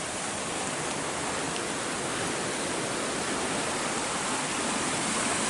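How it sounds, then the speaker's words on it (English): The River Durcal runs at a fair flow with snow melt, a steady, full rushing roar of water that stays even and close throughout with no voices. "First up is the river by the looks of things. Got a fair flow on it."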